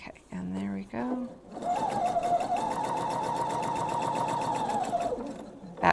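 A sewing machine runs in one steady, sustained burst while stitching a thread catcher, its fast mechanical whir holding level for several seconds after a short voice at the start.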